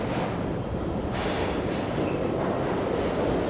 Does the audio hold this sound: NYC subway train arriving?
yes